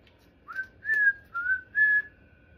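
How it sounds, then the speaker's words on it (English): A person whistles a short tune of four sliding, rising notes, clear and close against a quiet background. "What about your little whistling tune?"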